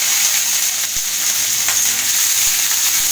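Dried red chillies, bay leaves and five-spice seeds frying in hot oil, a loud continuous hissing sizzle with a few faint ticks and pops from spices hitting the pan.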